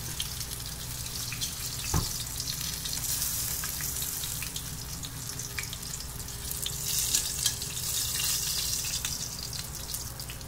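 Fish drops into hot oil and fries with a steady, soft hiss and sizzle, close and fairly quiet, with one sharp tap near the start and no talking.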